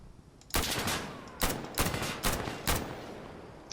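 Gunfire in the shooter game Insurgency Sandstorm comes as four loud, sharp bursts, each with a short rattling tail, spaced about a second apart after a quiet start. No voices are heard.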